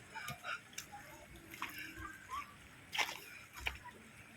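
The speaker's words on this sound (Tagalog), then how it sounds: "Madaming naglalaba dito." Faint water splashes and sloshes come in scattered, irregular bursts as people wash laundry by hand in a river, heard from a short distance outdoors.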